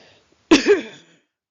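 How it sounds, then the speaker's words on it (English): One harsh, heavy cough bursts out close to the microphone, a single loud fit lasting about half a second before dying away into silence, with no talking. "Really bad cough."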